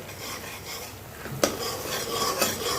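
A spice mixture sautéing in a pan for fish kalia, with a soft sizzle under rasping spatula strokes and a couple of sharp metallic scrapes against the pan, close and fairly quiet.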